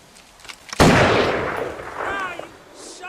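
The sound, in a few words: gunshot in Grand Theft Auto V video game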